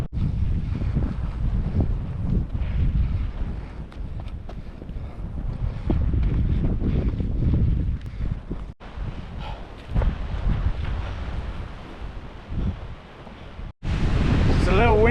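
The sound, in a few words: wind blowing on a mountain in Patagonia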